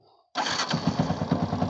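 After a brief quiet moment a Yamaha FZS V 2.0 motorcycle engine, at 43,000 km, cranks and catches, settling into a close, steady idle with rhythmic pulsing.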